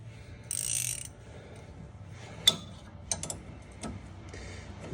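Ratchet wrench tightening the nut on a sway bar link of a 2007 Chevy Silverado 1500, a few short metallic clicks and clacks close by over a faint background hum, with no voices.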